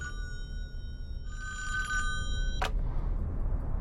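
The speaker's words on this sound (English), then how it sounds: "go ahead and pick up that phone to find out who's calling you" A telephone rings in a cabin in the Friday the 13th video game, an electronic bell ring lasting about two seconds and then cut off by a click, heard over a steady low ambient hum.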